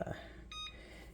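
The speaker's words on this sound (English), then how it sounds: "Let me turn off the" Oven timer on a kitchen oven, sourdough bread baking, gives a short electronic beep, a brief tone burst heard once, moderately loud over low room noise.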